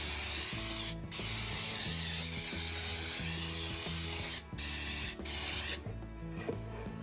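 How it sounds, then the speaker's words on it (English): Baker's Joy baking spray is sprayed into a Bundt cake pan in long, loud, close hissing bursts with short gaps between them, over a low background hum and no talk. "I'm going to generously spray with Baker's Joy."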